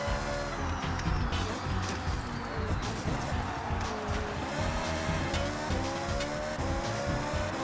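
Cars race in Forza Horizon with engines roaring and tires squealing through a chaotic pileup, a busy, continuous stretch of revving and skidding that runs beneath a narrating voice.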